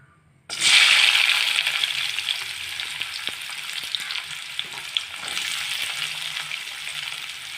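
Sliced onions land in hot oil with a sudden loud burst of sizzling that settles into a steady fry, with scattered light clinks of stirring, close and free of talk.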